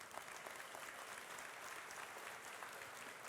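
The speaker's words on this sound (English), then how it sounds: "I'd like to hear a round of applause for that tonight" Steady applause from an audience at an electric cooperative's annual meeting fills the room, a dense continuous clatter of many hands with no pauses, alone and without talk.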